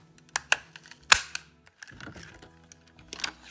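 A 1.5-inch circle punch cutting paper on a desk, giving a few sharp close clicks and snaps, the loudest a crisp punch stroke, with soft handling rustles between them, quiet overall.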